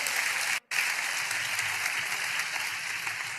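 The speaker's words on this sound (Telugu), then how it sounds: "చప్పట్లు కొడితే యేసయ్యకు స్తోత్రాలు చెప్దాం" Steady, dense applause from a church congregation at a Telugu sermon by a pastor, continuous and fairly loud apart from a brief dropout near the start.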